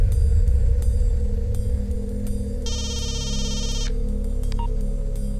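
A phone ringtone trills for about a second over a steady low engine-like hum, with faint clicks around it and no talking.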